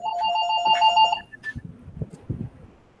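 A telephone rings during a meeting with a bright electronic trill that stops after about a second, and soft shuffling and handling noises follow.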